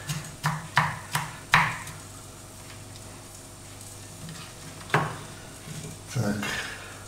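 Garlic being chopped with a knife on a board for a breakfast of fried eggs and sausage: about five quick, close knife strikes in the first two seconds, then a quieter stretch and a few more scattered taps and clatters.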